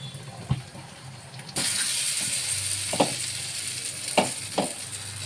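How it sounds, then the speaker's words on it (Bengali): Mughlai paratha frying in hot oil, a steady broadband sizzle that jumps louder partway through, with a few soft knocks and scrapes of a utensil against the pan. "ভাজাভাজি চলছে মোগলাই।"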